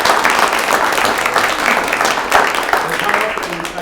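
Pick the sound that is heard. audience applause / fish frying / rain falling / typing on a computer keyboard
audience applause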